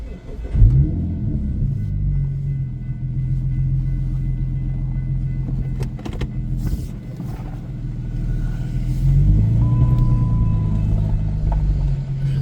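A vintage freight train rolls past a crossing with a deep, steady rumble, loud and close, swelling again near the end with a faint whining tone over the heavy low drone.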